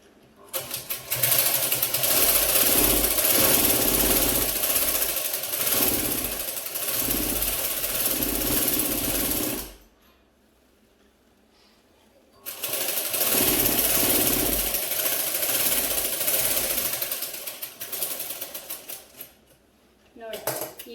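An electric-motor sewing machine stitches a belt in rapid, loud mechanical bursts, running for about ten seconds, pausing in near silence, then running again for several more seconds.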